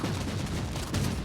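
Shotgun blasts from Warhammer 40K: Inquisitor, a dense, continuous volley of game gunfire with heavy low-end booms and a sharper burst near the end, loud and without talk.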